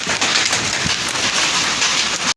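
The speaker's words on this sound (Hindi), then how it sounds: "खतरनाक बारिश हो रही है, ढांडे पड़ रहे दोस्त, जमीन पे देख सकते हो आप।" Heavy rain mixed with hail pours down in a village, a loud steady hiss of drops drumming on the ground and a roof, with occasional harder ice hits, no voices.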